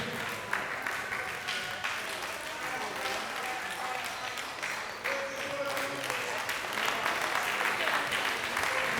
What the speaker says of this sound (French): Applaudissements pour ce soleil, s'il vous plaît.